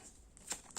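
Tarot cards are shuffled, giving a couple of quick, soft papery riffles and flicks over a quiet room.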